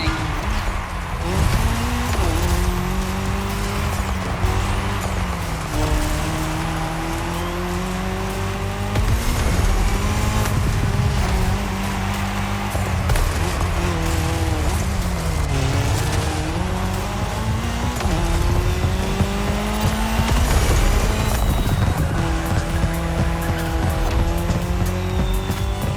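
Race cars roar around a tarmac section of a cross-terrain race in The Crew Motorfest, with loud, continuous engine whine rising and falling through gear shifts and occasional tire squeal.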